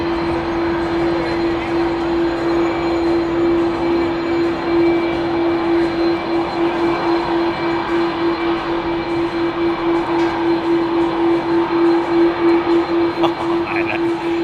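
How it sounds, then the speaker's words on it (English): A jet airliner powered by CF6 engines departs Heathrow in the evening, giving a steady, loud roar with a sustained droning whine that holds throughout. "Sound of those CF6s is just fantastic."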